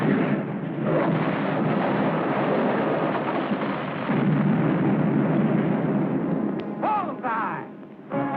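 Cannon fire in a 1951 war film: a sustained, loud rumbling roar of explosions and blasts filling the soundtrack, with a brief lull and a voice near the end.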